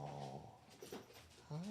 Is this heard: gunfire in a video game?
no